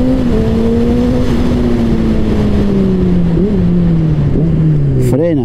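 A Honda CBR 600RR sport motorcycle engine revs hard and loud, its whine holding steady then climbing sharply near the end as the throttle is snapped open, continuous and close.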